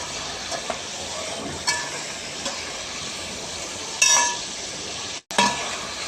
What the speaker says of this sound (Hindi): चम्मच घुमाते जाना है इस हिसाब से ताकि नीचे से लग न जाए।